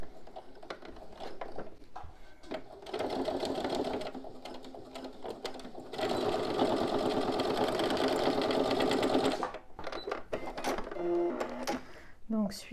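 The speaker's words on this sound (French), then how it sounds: "je vais faire une petite couture à" A sewing machine stitches a backpack seam a few millimetres from the edge, with short runs and then a long steady fast whirr close by, while a voice speaks during the pauses.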